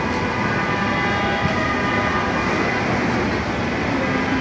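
A metro train rumbles steadily nearby at Karwan Bazar metro station, a loud continuous roar of wheels and motors with no speech over it.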